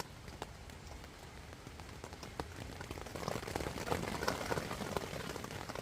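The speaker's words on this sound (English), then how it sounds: "It's starting to rain heavy again." Heavy rain drums steadily on an Oex Coyote III tent, a dense patter of drops that grows louder and more intense partway through, with no voices.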